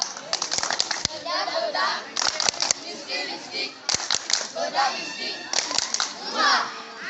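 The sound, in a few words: group clapping routine, tepuk bengkok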